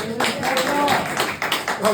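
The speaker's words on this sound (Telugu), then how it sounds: "చప్పట్లు కొట్టాలి చెప్పు" Clapping from an audience at a pastors' fellowship meeting comes as a brisk patter of hands, fairly loud and steady throughout, mixed with people talking.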